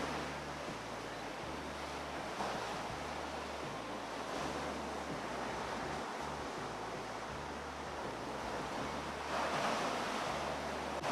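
Sea waves roll and wash ashore in a steady, broad rush of surf, with wind buffeting the microphone and occasional swells building louder, continuous and without talk.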